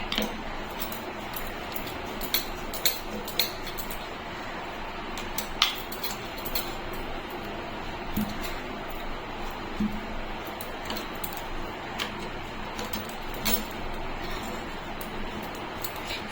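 Kachori dough is rolled out with a rolling pin on a floured board in a home kitchen. The rolling makes a continuous low rumble, broken by light clicks and taps of the pin as it is moved and set down.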